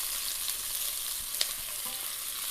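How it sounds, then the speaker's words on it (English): Onions frying and being stirred in a pan with aromatic spices, a steady close sizzle with one brief clatter of the stirring utensil, no voices. "go in with your onions. Give that a little stir through,"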